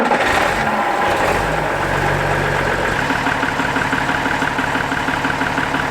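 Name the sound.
Unimog engine running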